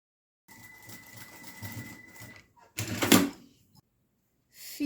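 A sewing machine stitching fabric for a handmade toilet paper holder: a near, steady mechanical whir with a faint tone for about two seconds, then a brief louder clatter after a pause, followed by quiet.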